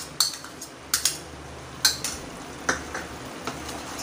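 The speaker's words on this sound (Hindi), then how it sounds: "इसे कर लेंगे मिक्स।" A spoon clinks against a pan as chicken masala with two tablespoons of yogurt is stirred, giving five or six sharp metallic taps at a steady, unhurried rhythm, close and clear over quiet background hiss.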